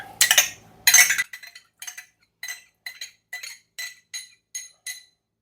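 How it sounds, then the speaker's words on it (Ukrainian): A spoon stirs milk in a dish, starting with two loud scraping clinks and then about a dozen light, evenly spaced taps against the rim that fade slightly, close and alone. "вливаємо молоко і розмішуємо"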